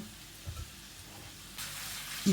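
Floured liver pieces dropped into well-heated vegetable oil for pan-fried Albanian-style liver, giving a soft sizzle that swells at the end as more pieces hit the oil, with a few small bumps from handling.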